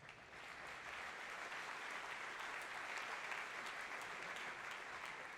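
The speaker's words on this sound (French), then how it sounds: "on peut t'applaudir" Sustained audience applause fills a corporate address as a new successor stands to be recognized, a steady wash of many hands clapping at moderate distance without any speech over it.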